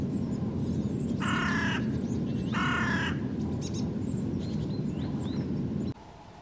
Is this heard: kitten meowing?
no